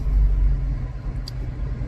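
Road traffic rumbles past a car stopped at the roadside, a low, steady engine drone with a heavy bass rumble, fairly close and alone with no talk.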